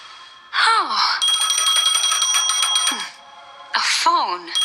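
A phone in the video game Honkai: Star Rail rings loudly for about two seconds in a steady electronic trill, bracketed by voiced character sounds before and after.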